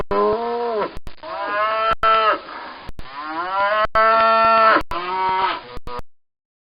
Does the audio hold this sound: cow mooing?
yes